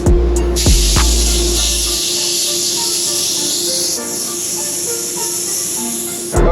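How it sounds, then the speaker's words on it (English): A paint spray gun hisses continuously while laying a light base coat of pearl white on a car door, steady and close, with brief air bursts and knocks at the start. "we're gonna spray a light coat of base on it"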